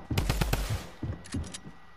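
Rapid bursts of gunfire from the Fortnite Battle Royale video game: a dense, loud volley first, then a few shorter separated shots, close and with no talking.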